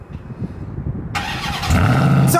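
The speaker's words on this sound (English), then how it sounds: "let's go ahead and get a cold start." A 2024 Ram 1500 TRX pickup cold-starts after a second of quiet, with a sharp crank catching into a loud, close engine roar that settles into a deep, rising idle.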